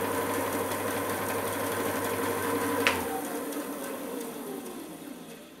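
JiB BS-12 band saw running, a steady mid-pitched mechanical hum with a low tone that drops out partway through after a brief click, leaving a quieter whir alone in the background.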